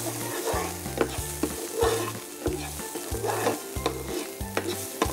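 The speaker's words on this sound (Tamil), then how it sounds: "ஸோ நல்லா கோல்டன் ப்ரௌனாக வர வரைக்கும் இதை நம்ம வந்து ஃப்ரை பண்ணி எடுத்துக்கிறோம்" Pieces of fish frying in a pan until golden brown, a continuous crackling sizzle broken by repeated stirring clinks, with music playing underneath.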